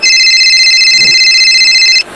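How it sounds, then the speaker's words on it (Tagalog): Loud electronic mobile phone ringtone, steady bright tones sounding continuously for about two seconds and then cutting off abruptly, with a faint low background beneath. "nagring yung phone mo"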